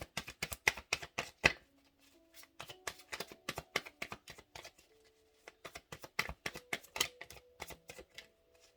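Tarot cards are shuffled in quick riffling bursts, each a rapid patter of crisp snaps close by, with brief pauses between rounds of shuffling.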